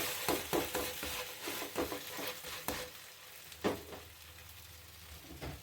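Ragi pathiri being flipped and cooking in ghee in a pan: soft sizzling with several spatula scrapes and taps, close and fairly quiet.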